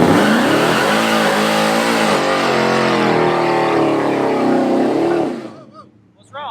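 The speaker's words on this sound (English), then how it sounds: "You got to heat the tires up first, man, before we head out there. That way they're good and sticky. Burn out? Let's do it." A truck with new drag tires doing a burnout to heat them: a loud, sustained engine roar and tire noise for about five seconds, then an abrupt cut to near quiet.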